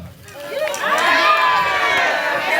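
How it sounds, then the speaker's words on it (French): Guests at a wedding ceremony cheer and shout in a loud, sustained crowd roar, excited voices overlapping and rising above the hall noise throughout. "On applaudit, voilà."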